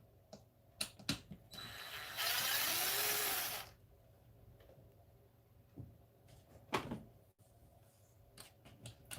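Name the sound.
pulling apart RC car rear end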